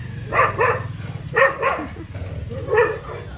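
A village dog barks in three quick bursts, mostly paired woofs, over a low steady rumbling hum in the background.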